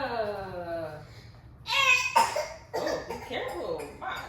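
A toddler fakes dramatic coughs in a string of sharp, close bursts, right after a short stretch of an adult voice talking.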